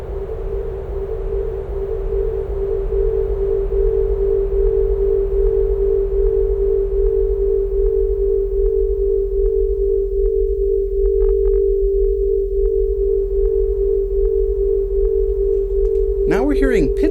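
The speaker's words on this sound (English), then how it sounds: "each of these filters can start to self-oscillate, and that means it starts to sing and make its own little note." A synthesizer's resonant bandpass filters self-oscillate into a steady sung pitch, a sustained pure tone above a noise bed, with a brief warbling sweep near the end.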